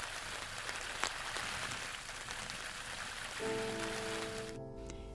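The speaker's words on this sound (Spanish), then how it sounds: "Las gotas de lluvia, de un chaparrón fuerte, tienen una gran energía que descargan sobre el suelo." Heavy rain shower pelting bare soil, a dense steady hiss of drops for most of the stretch, with a low tonal hum rising underneath near the end.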